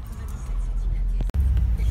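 Steady low rumble of road noise inside a moving car, loud and continuous with a brief dropout near the middle, as someone talks over it.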